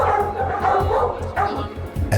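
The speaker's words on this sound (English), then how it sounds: "Growling, and he's starting to make noise" A sedated dog growling and beginning to stir, its low rumbling grunts and whimpering vocalizations coming close and fairly loud, with a sharper yelp near the end and voices faintly beneath.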